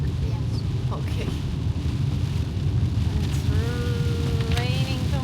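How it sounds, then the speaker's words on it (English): Heavy rain pours down outdoors in Orewa and Warkworth, New Zealand, a loud continuous hiss with gusty wind buffeting the microphone, while a voice and a faint whistling tone rise briefly over it. "It's raining too much for the camera to see anything."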